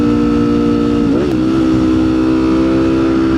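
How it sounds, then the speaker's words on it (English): Street traffic with cars and motorcycles heard from inside a vehicle, a loud steady engine drone with a brief pitch dip and shift partway through. "you can see the traffic go pretty crazy right now"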